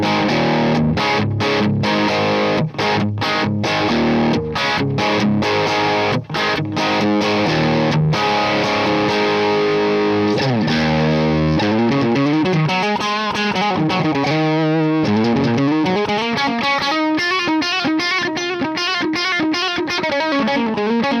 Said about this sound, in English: It's a UK 45 plus, but in the description it says based on the Marshall JTM 45.